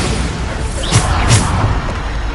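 A Bombarda explosion spell goes off in Hogwarts Legacy, a pair of loud booming blasts close together over steady game background noise.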